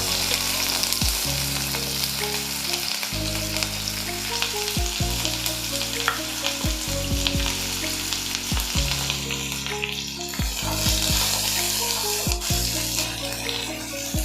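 Onions frying in hot oil for an aloo paneer matar masala, a steady close sizzle with crackle running throughout, broken by a few short clatters of stirring and no talking.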